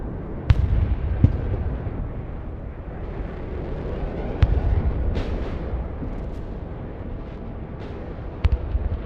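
Bomb blasts in the war game Broken Arrow land as several sharp, booming hits spread through the clip over a rumbling battlefield background, with no talking.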